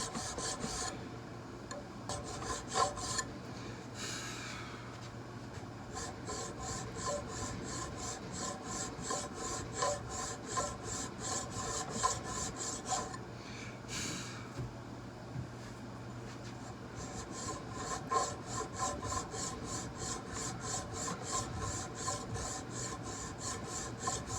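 Filing a steel barrel tenon on a smoothbore barrel, a steady rhythmic rasp of repeated metal strokes, close and fairly quiet, running continuously with brief pauses.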